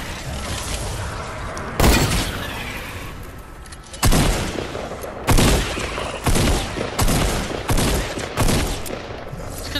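Gunfire in a shooter video game during a big team fight: sustained rattling bursts and sharp, loud shots come in repeated clusters over a dense, noisy battle backdrop, with no talk.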